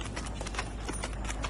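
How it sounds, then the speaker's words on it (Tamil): A horse trots smoothly, its hooves beating a steady rapid clip-clop close by, under a constant noisy outdoor background with no talk. "குதிரை சாஃப்டாக போகுது பாருங்கள்."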